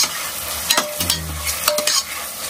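Softened onions and freshly added tomato fry in ghee for a mutton biryani, with a bright, steady sizzle and a quick run of close stirring scrapes and knocks against the pan.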